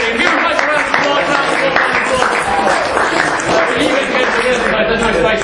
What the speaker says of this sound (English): Give them both a round of applause.